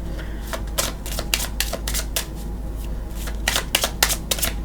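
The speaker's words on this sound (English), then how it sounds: "But we'll give them a good couple shuffles." A deck of tarot cards is shuffled by hand in a quick series of crisp riffling bursts and flutters, close and clear, with no talking.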